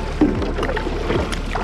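Kayak paddle strokes on open water near a deep ship channel, the paddle dipping and splashing in a couple of rhythmic pulls with gurgling water and wind noise, close and fairly loud.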